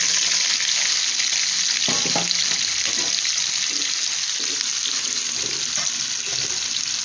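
Curry leaves frying in hot oil, a steady loud sizzle close up throughout with a few brief crackles and stirring clatters.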